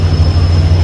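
Train passing right beside a Delhi railway station, a loud, heavy low rumble with steady droning tones, close and continuous across the short stretch, no voices.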